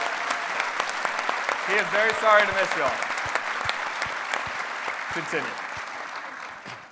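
An audience at a live political show in Washington, D.C. claps in a steady patter as a speaker talks over the applause.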